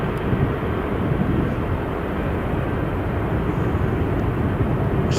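A Boeing 747 jumbo jet at Stansted Airport produces a continuous, heavy low engine roar, loud and steady throughout with no talking.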